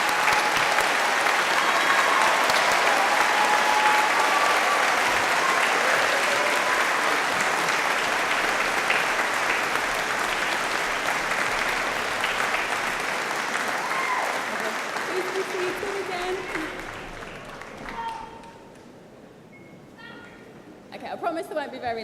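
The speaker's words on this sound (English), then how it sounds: "join me in giving them a well-deserved round of applause" Graduates and guests at a Birmingham City University graduation ceremony give a long, loud round of applause that stays steady for most of its length, then thins and fades to scattered claps near the end.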